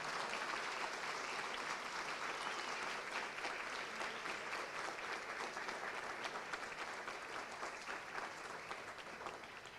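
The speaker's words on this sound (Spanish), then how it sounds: "Un fuerte aplauso para todos nuestros egresados." Sustained applause from a graduation ceremony audience at a certification event, a dense, steady wash of many hands clapping that holds evenly throughout and tapers only slightly near the end.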